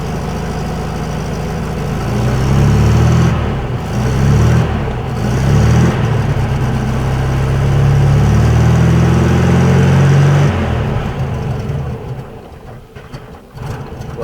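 A 1966 VW Beetle engine idles steadily as it warms up, a loud, close, low rumble with a slightly uneven beat that eases off toward the end.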